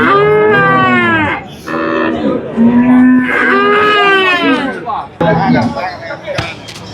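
Gir cross cattle moo loudly at a busy cattle market, several long, close bellows one after another, with people talking and crowd chatter around them.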